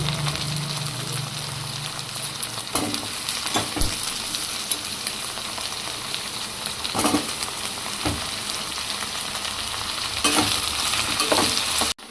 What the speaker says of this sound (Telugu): ఇప్పుడు ఇందులో చిలకడ దుంప ముక్కలు వేసుకుందాం. అవి కూడా బాగా మగ్గబెట్టుకోవాలి.